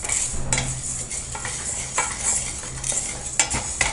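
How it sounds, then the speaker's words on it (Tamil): Urad dal roasting golden in a pan for murukku batter is stirred with a spoon, giving close, irregular scraping and clinking strokes over a faint background hiss. "உளுந்து நல்லா பொன்னிறமாக நம்ம வறுத்துட்டோம்"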